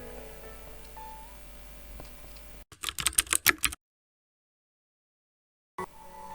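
A computer keyboard shortcut being pressed, a quick cluster of sharp close key clicks over a faint background hum, followed by a stretch of dead silence.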